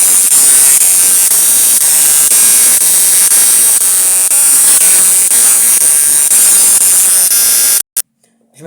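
Small Tesla coil buzzing with electric discharge: a loud, harsh, continuous crackling hiss that holds steady for several seconds, then cuts out abruptly and sputters briefly before stopping.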